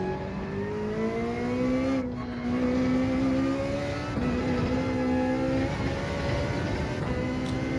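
Ferrari 458 Gr.3 race car on hard tyres in Gran Turismo 7, its engine droning loud and continuous with rising and falling revs through gear changes, a few brief dips between shifts, no talking.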